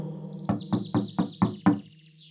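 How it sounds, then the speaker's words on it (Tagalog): A door is knocked on six times in a steady, evenly spaced rhythm, each rap sharp and close, with a faint high chirping tone running underneath throughout. "kumatok siya sa pinto."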